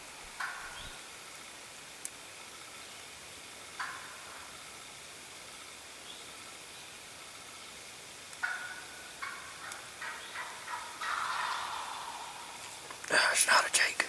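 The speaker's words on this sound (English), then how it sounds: "It's not a jake. That's a gobbler." Wild turkey gobbler gobbling during an opening-day spring turkey hunt, heard as a few faint, distant bursts spread through a quiet woodland scene, with a louder rattling burst near the end and hushed whispering between them.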